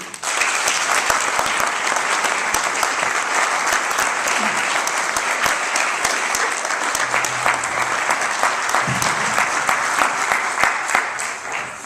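A lecture audience in Milwaukee claps steadily and loudly for about twelve seconds, welcoming speaker Aryeh Green onto the stage, dense continuous applause with a few scattered voices underneath.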